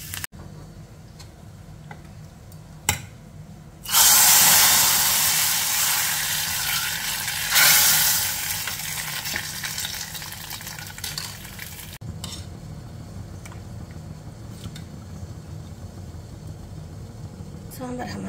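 Curry leaves and dry red chillies drop into a hot mustard-seed tempering for sambar, setting off a sudden, loud burst of sizzling that fades to a lower crackle, with quieter ticks before it and faint sounds after it dies down.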